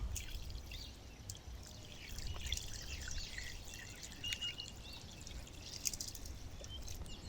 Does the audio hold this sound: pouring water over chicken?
yes